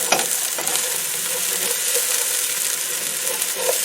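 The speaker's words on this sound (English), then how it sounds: "Alright, now I'm going to add the garlic. I chopped 2 cloves of garlic." Two cloves of chopped garlic sizzle steadily in a hot pan for a collard greens dish with turkey leg, a dense, even frying hiss with a few faint scrapes of stirring, close and continuous with no talking.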